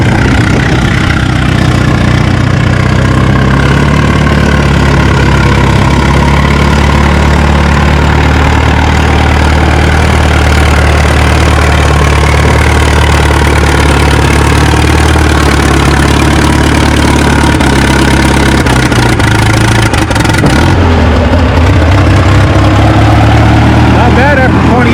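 A Case LA tractor idles at a tractor pull event, a loud, steady low engine drone that continues throughout while an announcer talks over it.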